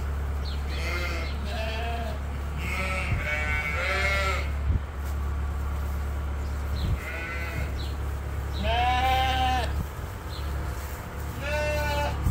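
Ewes and lambs bleating in a pen during weaning, many overlapping calls near and far over a constant low mechanical hum, loud and frequent throughout.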